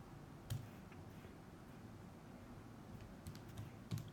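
Quiet, sparse clicks of numbers being keyed into a calculator to work out an exponential equation, a few soft taps spaced out over a few seconds with no talk.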